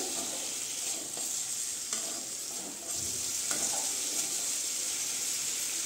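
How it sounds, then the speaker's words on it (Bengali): Chicken pieces for butter chicken frying in a pan, a loud, continuous close sizzle with occasional soft scrapes of a spoon stirring the meat. "আমি 5 মিনিট আরও কষিয়ে নিব ভালো করে।"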